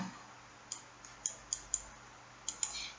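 Small computer mouse clicks in quick pairs, crisp and close, several double-clicks spread over a few seconds against faint room hiss.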